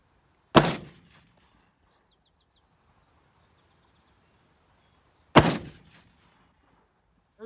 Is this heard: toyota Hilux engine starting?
no